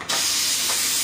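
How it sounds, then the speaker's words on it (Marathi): Hot tempering (phodni) poured into cooked dal, a sudden loud sizzling hiss that bursts in and holds steady for about a second with no talk. "फोडणी घालते डाळीची।"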